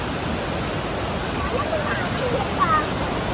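A waterfall's constant, dense rush of water fills the whole clip at an even, fairly loud level, with a few faint high chirps on top.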